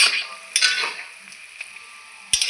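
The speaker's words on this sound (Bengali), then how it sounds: "দিয়ে দিলাম কুচিয়ে রাখা ধনে পাতা। আবারও একটু নাড়াচাড়া করে নেব।" Leafy greens with chopped coriander being stirred as they fry in a pan, a soft steady sizzle broken by a few sharp utensil scrapes and clinks against the pan, close and alone.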